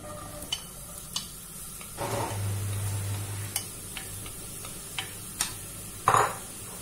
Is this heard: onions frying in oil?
yes